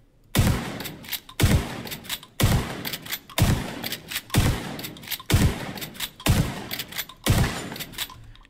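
KSG Sendoff shotgun in The Division 2 firing at a target: eight loud, evenly spaced blasts about one second apart, each a sharp boom with a short decaying tail, heard close and alone.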